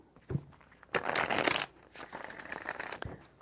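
Crisp riffling bursts of tarot cards being shuffled, two main shuffles with soft taps and handling noises between them, close and clear.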